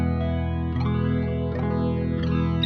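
Electric guitar run through a jazz chorus effect pedal, sustained shimmering chords with a wavering, doubled tone, re-struck every second or so, steady and up close without any voices.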